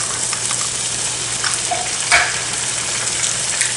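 Eggs cracked into a hot pan of vegetables for a veggie scramble, giving a steady close sizzle and hiss throughout with one brief louder splash of crackling near the middle, no talking.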